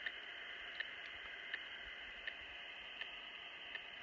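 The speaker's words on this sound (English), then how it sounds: "if you listen closely, you can hear that distortion, that plap, plap," A radio telemetry receiver tuned off an elk collar's signal gives a steady hiss of static with faint, evenly spaced ticking pops, roughly one every three quarters of a second, heard alone.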